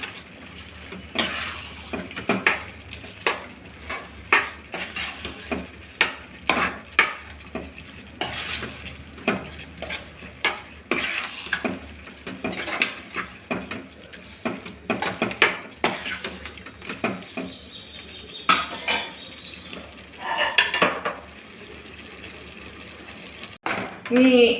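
Chicken being stirred with masala in a pan for pepper chicken gravy: repeated scraping strokes and clinks of a spoon against the pan over an ongoing sizzle, with occasional speech in between.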